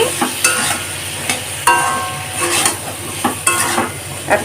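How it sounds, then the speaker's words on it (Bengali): Potatoes and jackfruit seeds fry with ground spices in a pan. A steady sizzle runs throughout, broken by repeated rhythmic scrapes of a spatula stirring the mixture, heard close up. "এখন ভালো করে কষে নিচ্ছি"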